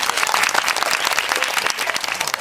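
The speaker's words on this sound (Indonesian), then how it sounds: "Ya kasih tepuk tangan buat Mas Hafiz." A classroom of students bursts into lively applause for a classmate during a coding and AI training lesson, dense and fairly close, with uneven claps throughout the short burst.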